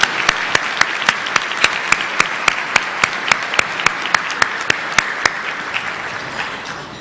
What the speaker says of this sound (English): now let's applause for all of these elected and appointed officials